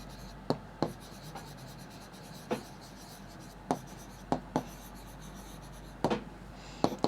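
Pen strokes on paper while numbers are written out for a maths divisibility problem: short, scratchy taps and scribbles spaced irregularly, some in quick pairs, quiet and close, with no talking.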